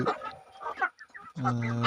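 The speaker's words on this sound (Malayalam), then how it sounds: "സാസു കോഴികൾ ഇപ്പോൾ ഒരു 3 മാസം കഴിഞ്ഞ കോഴികളാണ്" Three-month-old Sasso chickens cluck nearby in short, separate bursts, then give a longer drawn-out call at the end, with brief quiet gaps between.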